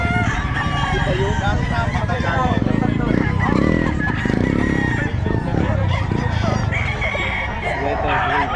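Roosters crowing among clucking fowl near a gamecock breeder's pen, including a Sweater gray Talisayin gamecock; loud overlapping crows and clucks fill the yard while people talk nearby.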